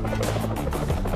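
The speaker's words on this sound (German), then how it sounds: "Da hinten ist ein Hubschrauber." A helicopter in the Flash video game Armio: a continuous, loud rotor chop and engine roar with a pulsing, throbbing texture, filling the whole short stretch without pause.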